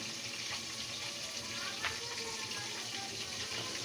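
Fish frying in a pan, a constant soft sizzle and crackle of oil at moderate distance with a faint clink partway through, steady and unbroken with no speech.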